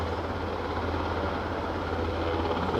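A helicopter coming in to land at Aberdeen airport, its steady low rotor and engine rumble droning continuously at moderate distance without a break.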